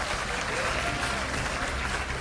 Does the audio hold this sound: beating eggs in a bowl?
no